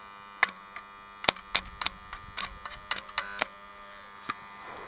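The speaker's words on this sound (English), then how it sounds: "So, let's do some welding." An old cheap stick welder buzz box strikes an arc in uneven bursts of crackling, buzzing sparks over a constant mains hum, with short gaps between strikes and no voices.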